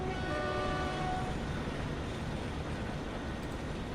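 German train departing in the video game Transport Fever: a steady, loud rumbling roll with tonal hum lines that fade after the first second, continuous and without talk.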